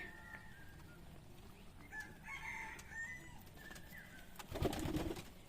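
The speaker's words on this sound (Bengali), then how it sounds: "এই কবুতরটা আমার নতুন কালেকশান অনেক সুন্দর" Pigeons calling and cooing softly in the background, with a louder burst of fluttering or rustling near the end.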